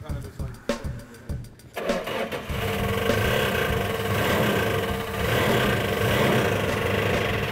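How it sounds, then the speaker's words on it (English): A car's 340 engine is started and runs, with uneven chugging cranking at first, then a steady, loud, rough idle rumbling close by until the end. "We're gonna take the car outside and run it for a little while longer"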